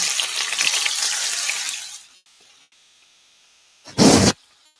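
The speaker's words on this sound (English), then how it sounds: "They're sizzling." Curry-spiced shrimp stir-fry sizzles loudly in a hot pan for a couple of seconds, then the sound drops to near silence before a short burst of hissing.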